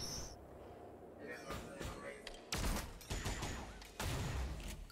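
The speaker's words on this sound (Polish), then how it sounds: "Pierwszy strzał reakcji jest niecelny." Gunfire in the video game XCOM Chimera Squad: several sharp bursts of shots fired in separate volleys, loud against a quieter game background, with someone talking between them.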